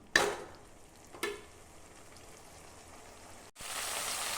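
Onions, green chillies and tomatoes sauté in oil for a coconut chicken curry, a steady soft sizzle with two sharp stirring clatters near the start and a brief pause before the frying hiss swells again.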